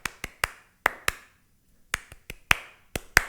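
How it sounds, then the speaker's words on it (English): Sharp, isolated hand claps ring out in a loose rhythmic pattern, close and crisp, with short pauses between groups and silence in the gaps. "Let's do a little bit of a rhythm clap"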